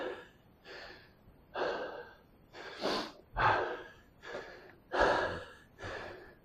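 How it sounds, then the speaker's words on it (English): Heavy breathing after a dumbbell workout: eight rhythmic gasping breaths, each about 0.8 seconds apart, close and fairly loud with slight snorting. "my breathing is better."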